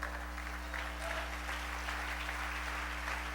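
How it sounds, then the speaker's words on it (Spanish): Steady, dense applause fills a church congregation space, continuous clapping over a constant low electrical hum. "Dale ese aplauso a la gloria de Dios"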